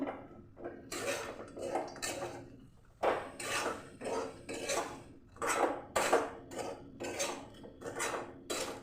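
A metal spatula scrapes and knocks against a pan while semolina fries, making a close, rhythmic series of clattering strokes with short pauses between them.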